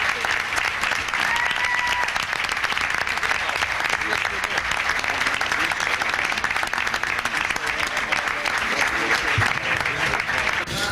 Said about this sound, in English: Let's hear it for Bobby Poe.